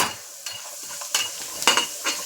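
Food frying in hot oil in a home kitchen gives a soft, steady sizzle, with occasional brighter crackles and light stirring scrapes on the pan.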